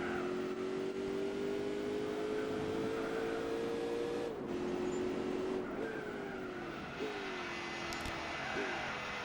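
Engine of a 2003 TVR Tamura race car in Gran Turismo 4 during a British GT Series race, a steady high engine whine rising and dropping with gear shifts, fairly faint, with tyre noise and no voices.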